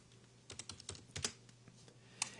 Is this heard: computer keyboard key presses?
yes